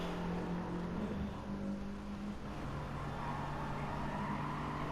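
A Ford Mustang race car engine drones steadily on track at moderate distance, a sustained buzzing tone that holds and shifts pitch slightly, fairly faint with no voices.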